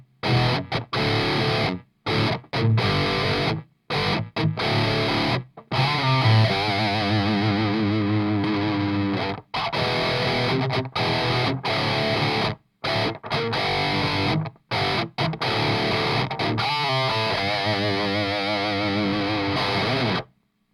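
An electric guitar plays through a Boomstick Prototype effects pedal, sounding distorted and lush with chorus-like modulation, in chopped phrases and sustained chords separated by brief silences, with no talking.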